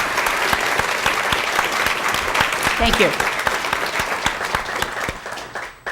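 Warm applause from a seated audience at a bipartisan democracy forum at the Dole Institute of Politics, a dense steady clapping that fades near the end, with a brief spoken thanks over it.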